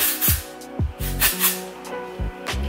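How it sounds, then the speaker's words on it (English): Several short bursts of hairspray hissing up close as it is sprayed onto hair, separated by brief pauses and soft handling noises. "spray just a little bit on the hair"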